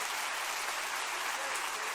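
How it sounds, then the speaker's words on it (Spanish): A church congregation applauds, a brief burst of dense, steady clapping heard from within the crowd. "Dele un fuerte aplauso a Dios."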